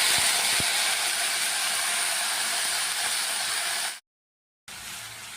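Tempering poured into hot oil with popped mustard seeds sizzles as a steady, loud, bright hiss. Two small pops come early, then the sizzle cuts abruptly to silence before resuming more faintly.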